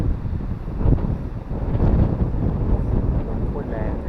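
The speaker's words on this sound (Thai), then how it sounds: "วันนี้ลมแรงมาก" Strong wind gusts across a tent campsite at Pranburi forest park in Prachuap Khiri Khan, Thailand, buffeting the microphone with a loud, continuous low rumble that swells and eases throughout.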